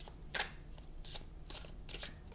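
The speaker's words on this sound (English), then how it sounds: "We're going to shuffle." Tarot cards being shuffled by hand: four short, soft riffling bursts close by, spaced about half a second apart, in a quiet room.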